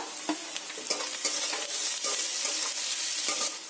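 Chopped ginger sizzling with onions in a hot pan, a steady bright crackle and hiss with occasional scraping stirs, close and alone.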